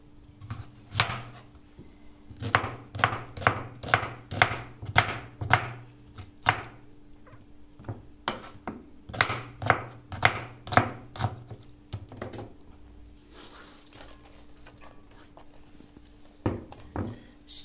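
A knife chopping tomatoes on a board while cooking the Kazakh dish dümlyame, giving quick bursts of crisp, evenly paced knocks close by. The bursts are separated by short pauses, and no voices are heard.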